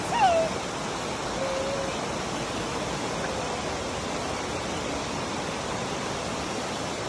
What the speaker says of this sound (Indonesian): Airnya deras sekali ya